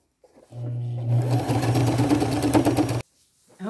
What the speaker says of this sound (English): I'm going to go back and I'm going to sew along that edge.